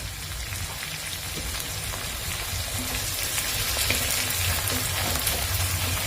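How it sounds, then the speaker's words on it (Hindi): Dried edible gum frying in hot ghee gives a dense, steady sizzle and crackle, like light rain, close and continuous without speech. "अब मैं इसमें ये मैंने जो सूखा वाला गोंद है, खाने वाला गोंद है, ये डाल दूंगी और इसको फ्राई करूंगी।"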